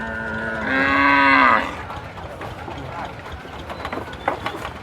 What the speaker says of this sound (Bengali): বেশ বড় সাইজের কিন্তু দুটি শাহিওয়াল গরু আনলোড হচ্ছে বালিয়াপাড়া হাটে